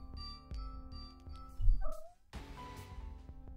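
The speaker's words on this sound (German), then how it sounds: "Habt ihr gerade meine Katze gehört? Die macht vielleicht gerade Geräusche." A cat vocalises faintly in the background of a German game session, a short rising mewing cry over steady game music and effects.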